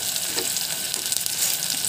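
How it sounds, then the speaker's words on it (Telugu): Prawns sizzle and crackle steadily in hot oil, small freshwater canal prawns frying close up with a dense, even hiss and occasional pops, no talking over it. "ఇలా ఈ రొయ్యలు కూడా వేసుకోవాలి. ఒక 20 నిమిషాల పాటు బాగా ఈ ఆయిల్లో వేగాలండి"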